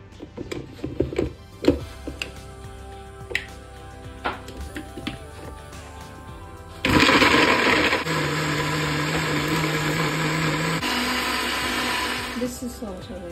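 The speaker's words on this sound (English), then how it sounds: "So, this is the one we are going to grind. Okay, so, let's go for the grinder." Kitchen grinder crushing chopped onions for North Indian chicken gravy, a loud whirring burst of about six seconds that starts abruptly midway and shifts pitch partway through, preceded by clinks, handling noises and brief talk.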